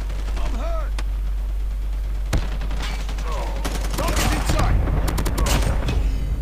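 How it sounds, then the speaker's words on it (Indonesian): Gunfire in the mobile shooter Call of Duty Mobile, scattered sharp shots and short rapid bursts over a low steady hum, with a player's voice talking in between. "Aduh, ada nembak itu di mana ya?"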